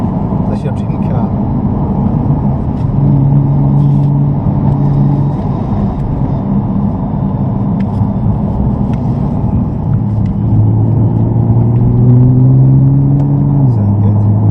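A Nissan GTR drives on a track, its engine rumbling steadily from inside the cabin with rising and falling revs, while people talk over it throughout.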